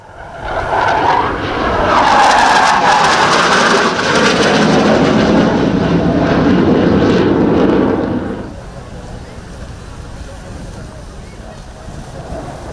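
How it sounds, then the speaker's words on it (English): A Panavia Tornado IDS swing-wing combat jet of the German air force performs a solo flying display at an airshow in Malta, its loud, broad engine roar swelling and sustained before dropping sharply to a quieter rumble. "Here's the second German solo demonstration, a Tornado IDS or interdiction strike variant of this swing-wing European multi-role combat aircraft"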